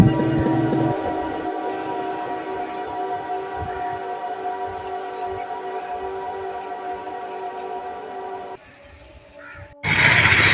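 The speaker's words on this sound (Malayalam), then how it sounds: "അപ്പോൾ ഈ കീഴ്ക്കാവിൽ നിന്നാ ട്രെയിൻ പോകുന്നത് കണ്ടോ?" A loud, sustained droning whine passes close by for several seconds, then cuts off briefly before a burst of rushing noise.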